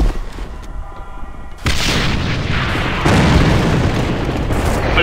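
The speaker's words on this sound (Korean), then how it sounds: "수류탄 투척!" A grenade blast in the first-person shooter game A.V.A erupts suddenly as a loud, full-spectrum boom about a third of the way in, then rolls on as a sustained rumbling roar to the end.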